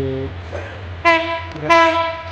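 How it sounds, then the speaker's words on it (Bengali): A train arrives at the Airport railway station, sounding two loud horn blasts about half a second apart over a steady low rumble of the approaching cars. "যখন ট্রেনটা আসছে তখন আমি ভিডিওটা শুরু করেছি।"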